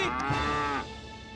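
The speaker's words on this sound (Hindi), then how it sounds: "ये तो पवना गाय की आवाज है।" A single cow moos loudly and nearby, a long drawn-out low call that fades off at the end.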